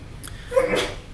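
A single short sneeze, sharp and close, bursts out in a lecture room and fades within a second.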